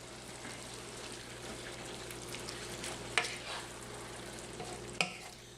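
A Creole chicken and andouille sausage jambalaya mixture is stirred in a hot pot, giving a steady soft sizzle with scraping spoon strokes and two sharp clinks against the pot.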